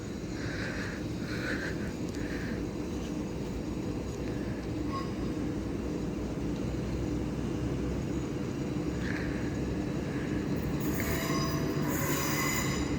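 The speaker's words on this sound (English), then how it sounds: "Now approaching this is 10:39, Grand Central Service to Bradford Interchange" A Grand Central Class 180 diesel train approaches a platform at Finsbury Park, with a steady rumble of wheels and engine, faint intermittent squeals, and a sharp wheel screech near the end.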